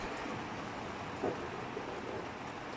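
Steady hiss of heavy rain pouring down outside, faint and constant with no pauses, a soft rumble underneath and no voices.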